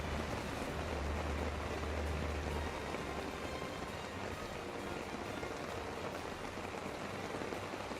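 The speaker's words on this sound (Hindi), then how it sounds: "दिल्ली एनसीआर में सुबह से जबरदस्त बारिश हो रही है।" Heavy rain pours over Delhi NCR, a dense, constant hiss of drops striking surfaces that holds steady throughout, with a low rumble beneath and no speech.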